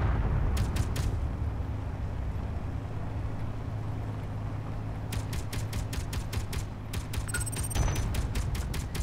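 Automated defense turret fire in the space game Space Engineers, sharp rapid bursts of shots in two clusters over a constant low rumbling hum, moderately loud.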